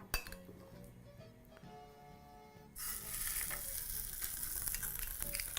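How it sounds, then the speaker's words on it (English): Pork pieces sizzling on a hot grill for sticky pork ribs, a quieter stretch with light clinks giving way to a loud, steady hiss of frying fat that fills the rest, with no talk. "Right, so pork on the grill"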